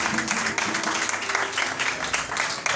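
A church congregation applauding the Lord Jesus during a worship service on spiritual combat, with dense, steady clapping and some cheering voices that continue without a break throughout.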